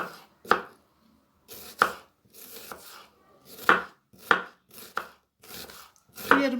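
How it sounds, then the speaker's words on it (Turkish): Sharp knife chops finely dicing an onion on a cutting board in short irregular bursts, close and fairly quiet, with brief pauses between runs of strokes. "Şimdi ilk önce soğanımızı ince ince doğramakla başlıyorum."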